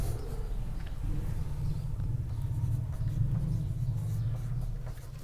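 Chalk or a marker scratches steadily across a board as a solution to an integrals problem is written out, a soft continuous scraping over a low room hum.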